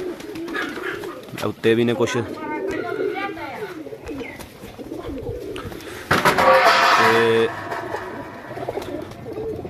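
A golden-coloured pigeon coos in short rolling bursts near the microphone, while someone talks over and between the calls.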